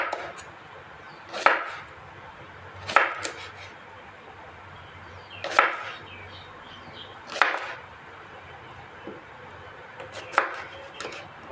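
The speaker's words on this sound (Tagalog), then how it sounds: "kami itong pag-iwa ng cucumber" Knife slicing cucumber on a board, five or six separate sharp cuts spaced a second or two apart over a quiet, faintly humming room, close and distinct with no talking.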